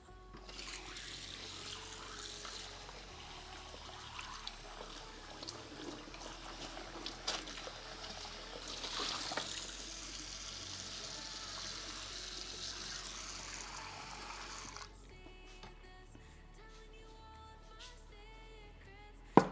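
A water tap runs for hot water, a steady close rush into a sink that continues for most of the stretch, then stops, leaving a quiet room with faint clinks.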